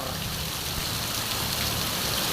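Heavy rain pours down outside near a school during flooding, a dense, steady hiss of water that stays loud and even throughout.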